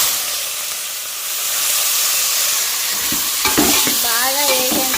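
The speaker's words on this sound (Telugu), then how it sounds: "ఇంక మొత్తం వేసుకొని బాగా ఫ్రై చేసుకుని" Ingredients for sambar are stirred and fried in a pan in a village kitchen, giving a steady, loud sizzle with scraping stir strokes, and a brief whistling tone rising near the end.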